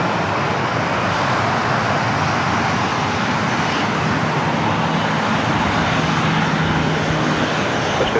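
A Boeing 737-800 takes off from runway 24 right at LAX, a loud, steady broadband jet roar that fills the whole clip without pause or talk.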